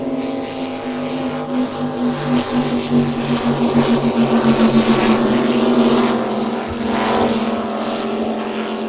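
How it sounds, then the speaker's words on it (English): V8 engines on offshore racing powerboats roar loudly at Lake Macquarie, a dense throbbing drone that swells and pulses as the boats pass, with one brief spoken word. "Have a listen to the V8s."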